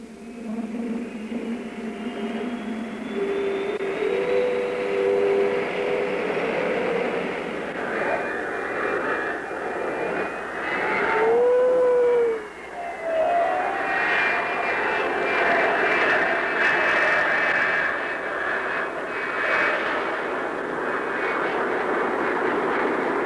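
A Lockheed F-104 Starfighter jet taking off, a loud sustained engine roar with shifting whine and rising tones as it passes, brief dip midway, filling the whole stretch.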